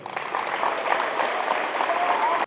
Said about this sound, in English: So a big round of applause for Logan Mozingo